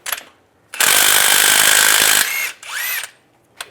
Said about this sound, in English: Now using a 24mm socket, we want to take off the crank bolt.